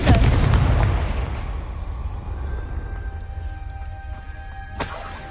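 A Confringo spell from Hogwarts Legacy bursts in a loud, close boom that rumbles and fades over several seconds, with a sharp crack near the end.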